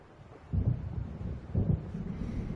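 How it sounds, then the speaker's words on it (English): Low, rolling thunder rumbles in two deep swells from a storm approaching over the water in Alan Wake Remastered, with a soft wind-like hiss beneath. "It seems there's a storm coming."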